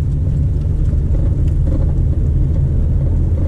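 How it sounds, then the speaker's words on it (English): A car drives along a muddy road on a scrap metal run, giving a steady loud low rumble of engine and tyres churning through mud, continuous with no voices. "Oh, listen to that mud."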